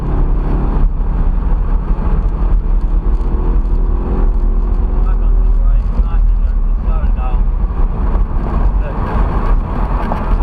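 Audi R8 V8 engine accelerating on a track, a loud continuous roar heard from inside the car with wind rush, while an instructor talks over it.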